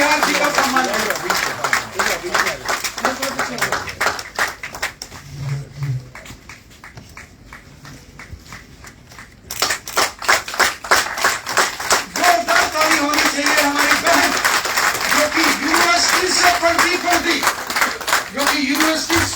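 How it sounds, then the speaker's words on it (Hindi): Loud, dense applause at a J&K BJP workshop honoring Shagun Parihar, a crowd clapping rapidly and continuously with a brief softer dip midway before surging back at full strength, with talk underneath. "जोरदार तालियों के साथ शगुन परिहार जी का सम्मान करें"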